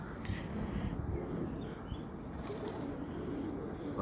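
Pigeons on a rooftop loft, steady low cooing and rustling with occasional wing flaps, a continuous busy murmur of birds close by.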